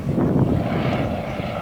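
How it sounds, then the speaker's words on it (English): A Sopwith Pup biplane's rotary engine runs close by, a loud, continuous rough drone with a steady throb and wind buffeting the microphone. "You'll hear the engine going brah, brah, brah as they're coming in."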